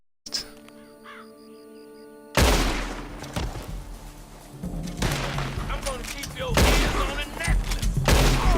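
Gunfire rings out in Red Dead Redemption 2 Online: a burst of sharp shots and booms follows a quiet menu-like tone, then scattered loud reports repeat in clusters amid game ambience.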